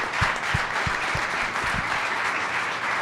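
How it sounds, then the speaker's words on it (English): Audience applause at an evening community gathering, steady crowd clapping heard at moderate distance with a few low thumps near the start, continuous to the end. "So let's give them a round of applause."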